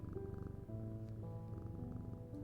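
A cat in the video game Strange Antiquities purrs as it is petted, a steady low rumbling purr with layered game tones, continuous and close for a couple of seconds.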